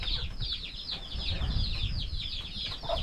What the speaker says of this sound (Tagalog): May libreng patukaan yung mga sisiw oh.